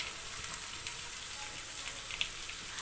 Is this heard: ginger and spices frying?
yes